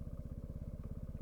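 Benelli TNT 125 motorcycle engine running as the clutch is released, a steady low throbbing pulse, close and fairly quiet with no talk.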